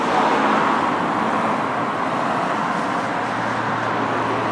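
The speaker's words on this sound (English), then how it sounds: "Sorry about the traffic, but as soon as I start recording it keeps heavy traffic." Heavy road traffic on a street in Dundee, a loud, continuous roar of cars and larger vehicles rolling past close by, with a low engine hum rising near the end.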